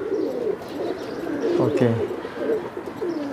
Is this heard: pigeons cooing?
yes